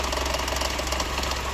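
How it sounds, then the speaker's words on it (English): A Mercedes W124 engine idles low on its first cold morning start, its steady rapid thrum carrying a fast rhythmic rattle from the loose air cleaner clog gauge, close and moderately loud. "That rattling is caused by that gauge that shows you how clogged your air cleaner is."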